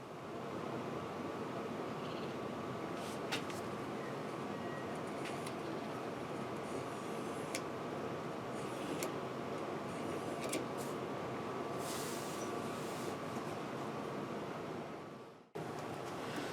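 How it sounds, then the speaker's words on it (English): A clothes dryer runs in the background as a steady, broad whooshing rumble that carries on for most of the stretch before cutting off abruptly near the end. "So apologies for the noise, clothes dryer on in the background."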